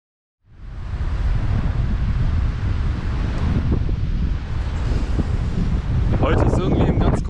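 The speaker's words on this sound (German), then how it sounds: "Also es ist ziemlich viel Wind, der so aus Norden kommt." Strong north wind at a beach in Albania, roaring into the microphone as a loud, continuous broadband rumble that starts abruptly after a brief silence and holds steady to the end.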